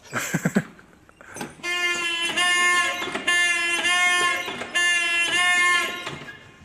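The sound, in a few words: lighthouse fog signal horn sounding, Fastnet Rock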